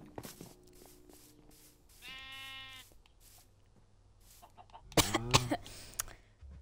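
A sheep in the Minecraft video game gives a single wavering bleat at moderate volume, followed by clicks, a cough-like burst and other game noises in a quiet setting.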